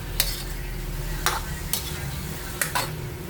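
Shrimp bola-bola mixture stirred with a spoon in a pot, several sharp scraping strokes at irregular intervals over a low steady sizzle, close and moderately loud, no talking.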